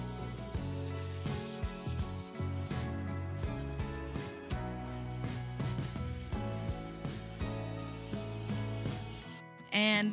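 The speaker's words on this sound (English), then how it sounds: "I ended up sanding a little bit more" Steady rubbing of sandpaper on painted wood continues without a break beneath background music.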